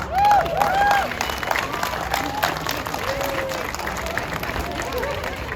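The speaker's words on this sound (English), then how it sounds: "Give AJ a clap, everyone." An outdoor crowd at a fire and rescue open day in Cardiff Bay claps for a new firefighter on a rope rescue, loudest at the start then settling into lighter, scattered clapping with crowd chatter and a whistling tone.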